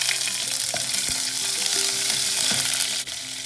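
Shallots drop into hot oil already crackling with mustard seeds and browned urad dal, a loud close sizzle with spatula stirs and light taps, steady for a few seconds without talk.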